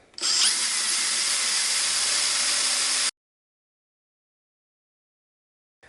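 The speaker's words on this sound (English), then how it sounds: "I'm just going to drill through and basically mark the leg on the underside" A power drill with a small bit whines loudly for about three seconds as it bores through walnut wood, then stops abruptly into silence.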